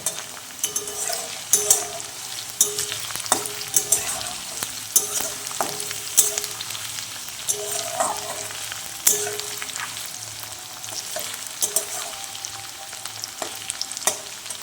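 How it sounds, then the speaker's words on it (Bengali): Onions fry in a pan for restaurant-style egg tadka, giving a steady close sizzle broken by frequent sharp clicks and scrapes of stirring throughout. "পেঁয়াজটা একটু ভাজা ভাজা হয়ে আসবে অর্ধেকটা, তখন আমি টমেটোগুলো দিয়ে দেবো"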